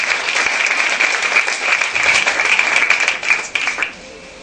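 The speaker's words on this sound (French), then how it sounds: "Est-ce qu'on peut applaudir très fort?" Church congregation at a miracle service applauds loudly, a dense, close burst of many hands clapping that thins and drops off near the end.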